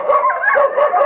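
A German Shorthaired Pointer howls in a single sustained, wavering, close and loud cry with no talk over it.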